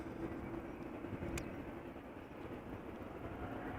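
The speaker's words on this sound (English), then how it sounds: "KLM flight 1229 going to Paris Charles de Gaulle. Boeing 737-800." KLM Boeing 737-800 airliner bound for Paris at Amsterdam Schiphol Airport, a steady distant jet engine roar holding level throughout with no voices.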